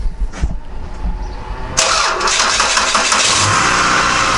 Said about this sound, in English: We're just gonna initially start it up to make sure everything runs smooth.